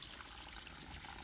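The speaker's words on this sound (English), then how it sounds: "there's like a little bit of water that runs down the side of the bluff here" A small trickle of water running down the side of a bluff, a faint, steady hiss-like patter close by and alone.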